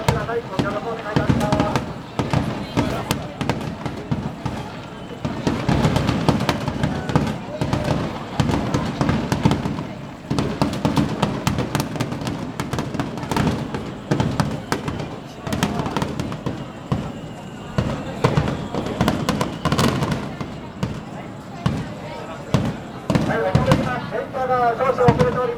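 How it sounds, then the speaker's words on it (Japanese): Fireworks at the Tenjin festival pop and boom in dense, rapid bursts across a long stretch, heard from a crowded JR Sakuranomiya station platform, with a public-address announcer talking throughout. "こちらから若干花火ご覧いただけます。"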